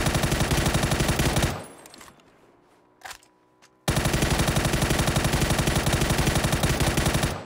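Dense automatic gunfire in the battle royale game PUBG, a loud continuous burst for about two seconds, then a quiet gap with a couple of faint clicks, before another sustained loud volley runs to the end.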